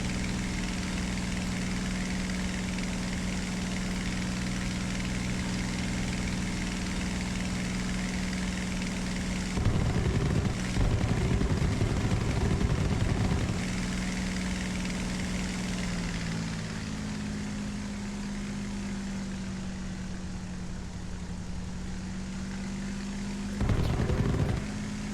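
A heavy attack aircraft engine drones loudly and continuously in War Thunder, a steady propeller roar with a couple of brief louder surges partway through.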